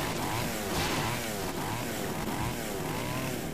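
A chainsaw in the Splatterhouse video game revs continuously, a loud buzzing engine whine that wavers up and down in pitch without a break.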